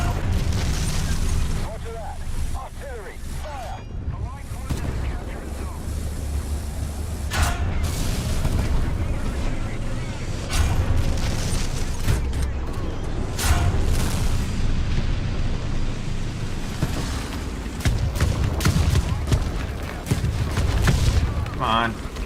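An artillery barrage in War Thunder, heard from an LVT(A)(4) light tank, rumbles with repeated heavy booms and scattered sharper blasts at uneven intervals, mostly beneath ongoing talk, with one last late impact.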